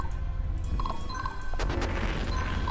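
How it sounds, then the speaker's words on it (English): Cannon fire in the strategy video game Symphony of War, a heavy boom with crashing impacts and a short metallic ring near the middle, over a dense low rumble. "Cannon"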